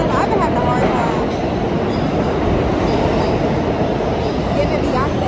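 A New York City subway train rumbles and rattles loudly and continuously, a dense steady roar of wheels and cars with faint voices mixed in.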